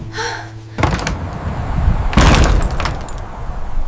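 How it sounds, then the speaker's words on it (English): Two heavy door slams crack out one after the other in an empty house, loud and close, each followed by a ringing, noisy tail. "Doors slammed in empty rooms."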